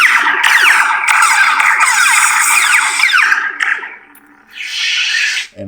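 A Neopixel lightsaber with a Proffie board, lit with a green blade, is swung smoothly, giving a loud sweeping hum that swells and bends in pitch over several seconds, dips briefly, then rises again before cutting off.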